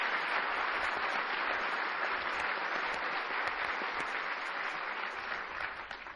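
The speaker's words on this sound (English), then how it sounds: "I would like you all to give me one last round of applause for our chairs" An awards ceremony audience applauding faculty chairs, a dense, sustained crowd of clapping that holds steady and then begins to thin at the end.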